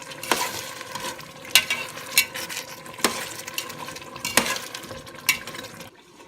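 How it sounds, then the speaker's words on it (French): Chicken yassa with onions stirred in a pan after half a glass of water is added, with a low sizzle and repeated sharp clicks of a utensil against the pan at an irregular, unhurried pace, close and clear, with no talking. "Et après vous remuez."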